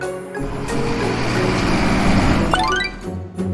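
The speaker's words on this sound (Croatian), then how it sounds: "Kamion kiper." A tipper truck's engine rumbles and idles nearby, a continuous low mechanical drone that stays fairly steady throughout, with a brief cartoonish effect sound late on.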